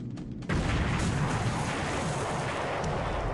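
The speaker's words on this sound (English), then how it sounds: "a single Dutch bomber comes in and plants a bomb on the AK Thames Maru" A bomb dropped by a single Dutch bomber explodes on the AK Thames Maru cargo ship in a World War II naval strategy game, a short lull giving way to a loud, sustained rumbling blast with no voices.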